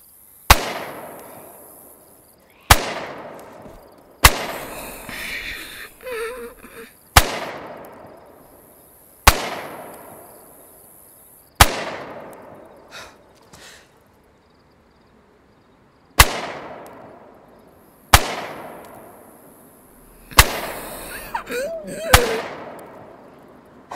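Sharp single gunshots ring out in the DayZ video game, about ten separate reports spaced a second or two apart, each with a long decaying echo, loud and near, with brief faint voices between some shots.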